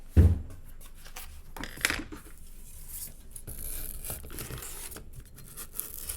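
Scissors cut through cardboard for a kids' dog-bed craft, giving rough tearing and snipping scrapes close by, with a sharp thump at the start and uneven rustling throughout.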